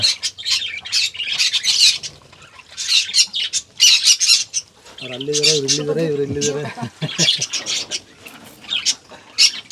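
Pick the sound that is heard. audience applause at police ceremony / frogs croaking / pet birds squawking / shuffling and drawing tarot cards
pet birds squawking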